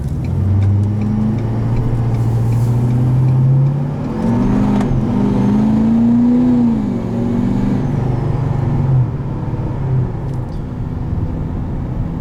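A tuned 2019 Ford F-250 Powerstroke diesel pickup accelerates hard, its deep engine drone climbing in pitch through steady pulls with a brief shift dip midway, loud and continuous throughout.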